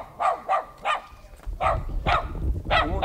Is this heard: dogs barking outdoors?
yes